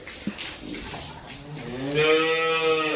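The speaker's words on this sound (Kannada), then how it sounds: "ಈ ದನದ ಹೆಸರು ಗುರುವಕ್ಕ." A cow moos in a cowshed on a small home dairy farm, one long, rising, loud call held close by, with faint background clatter before it.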